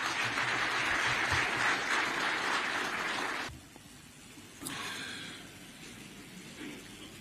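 Applause from an audience at a Zambian ICT association event, a dense steady clatter of many hands for about three and a half seconds, then dropping away to quiet room noise with a faint later swell.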